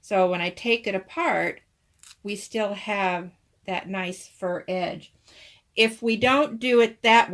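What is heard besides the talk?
None of the usual background noises is heard.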